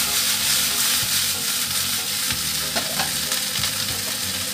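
Tofu stir-fried in a wok with a splash of angciu wine gives a loud, continuous sizzle and hiss, with occasional scraping stirs of the spatula.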